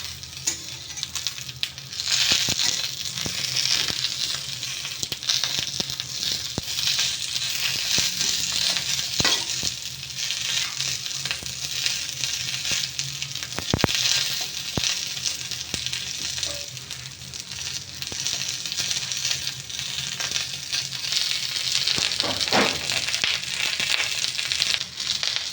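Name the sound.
frying and crushing ingredients in hot oil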